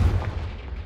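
A single sharp booming blast from the Confringo fire spell in the Hogwarts Legacy video game, a loud, close impact that quickly decays into a fading rumble.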